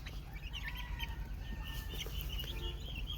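Several chicks cluck and peep softly and continuously, close by, over a low steady rumble with no talking.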